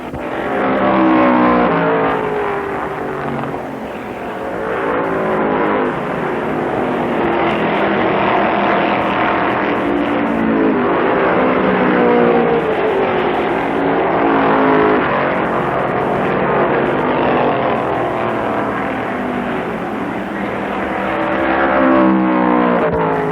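Dodge and Ford stock cars roar through a 1965 stock car race, their engines a loud, continuous, dense drone that swells and fades slightly as they pass, with no talking.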